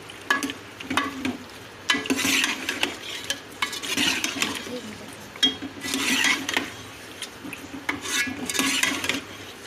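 Achari potatoes with ghee are stirred in a pan, with repeated scraping and clinking of a spoon against metal in uneven bursts over a soft background sizzle.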